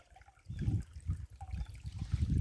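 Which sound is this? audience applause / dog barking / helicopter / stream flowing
stream flowing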